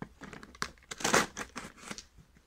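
Scissors cutting into a cardboard mystery box, giving a run of crisp crinkling and tearing snips, loudest in a dense burst near the middle, close and fairly quiet with no talk.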